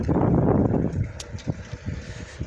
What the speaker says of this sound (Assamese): বতাহ চতাহ লাগি আছে বিৰাট।